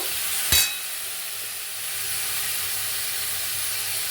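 Chopped vegetables for chira pulao go into a hot pan, giving a brief sharp burst of sizzle followed by a steady, fairly loud frying hiss.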